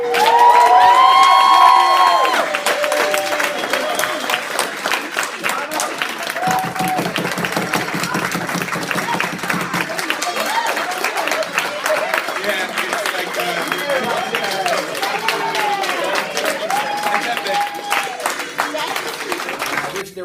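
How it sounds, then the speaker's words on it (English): A crowd applauds steadily for a long stretch, clapping mixed with scattered cheers and whoops, loud and continuous. "Applause for Debbie Brown."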